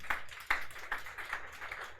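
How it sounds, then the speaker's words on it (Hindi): A class of students clapping together, a brief round of light applause with uneven claps, moderately near and without talk. "ताली बजा दीजिए सब लोग इसके लिए भी"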